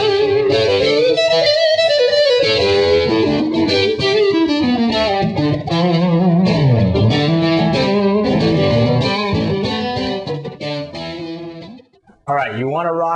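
A Parker Nightfly electric guitar on its neck single-coil pickup plays a sustained distorted melodic line with delay trails, loud and continuous, cutting off near the end before a brief final burst.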